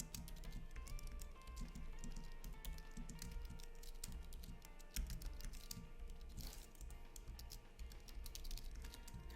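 Rapid, steady key clicks from a computer keyboard as Python code is typed, running continuously under a low background hum with no talk.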